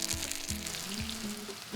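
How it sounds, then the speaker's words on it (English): Plantain slices frying in oil over medium heat, a steady close sizzle with a repeated low rhythmic knocking running underneath it. "Our oil is heating over medium heat, and I like to cook my plantains in a diagonal."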